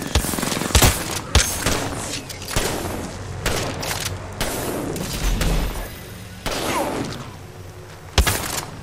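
Gunfire in an Apex Legends match, with irregular loud bursts and single cracks, heavy thumps and booms, close and distant shots overlapping through a busy firefight.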